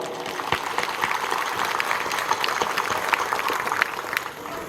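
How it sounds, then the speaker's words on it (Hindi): A church congregation at a priestly ordination Mass at St. Thomas Church, Krantiha, applauds loudly, a dense, steady wash of many hands clapping close by with no voices. "आइए तब हम इसी खुशी में जोरदार ताली बजा दें।"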